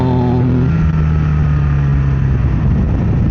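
A BMW R1300R motorcycle with automated shift assistant accelerating hard, engine note climbing steadily through gears, loud and continuous with no voices.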